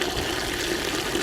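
Water splashing and gushing steadily onto a Tesla Model 3 full-cover car floor mat, a continuous close pouring wash with no pauses and no voices.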